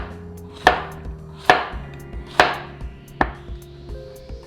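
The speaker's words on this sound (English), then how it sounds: "Also the zucchini, cut the tip. Cut it in slices." A knife slices through a zucchini on a cutting board, four sharp distinct thuds at an even, unhurried pace, close and clear with no talking.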